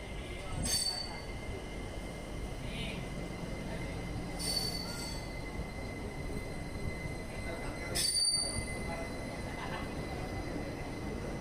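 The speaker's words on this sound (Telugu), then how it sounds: "సో జన్మభూమి ఎక్స్ప్రెస్ విజయవాడ జంక్షన్ నుండి డిపార్ట్ అయింది" The Janmabhoomi Express departs Vijayawada Junction, with a low rolling rumble of coaches over the rails broken by three sharp metallic wheel squeals and clinks, moderately distant and steady throughout.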